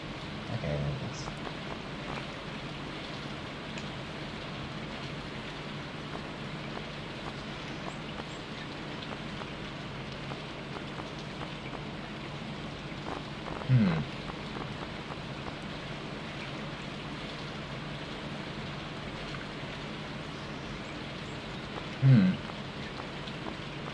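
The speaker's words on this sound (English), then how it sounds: "It's raining outside." Rain falling in the video game Stardew Valley, a soft continuous patter over a low steady hum, with two short thumps partway through.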